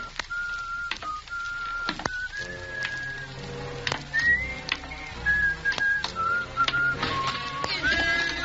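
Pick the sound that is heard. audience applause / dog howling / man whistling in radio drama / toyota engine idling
man whistling in radio drama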